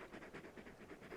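Torgal, a large dog in the Final Fantasy XVI video game, pants in a steady rhythm of quick, breathy huffs, about six or seven cycles close up with no talk.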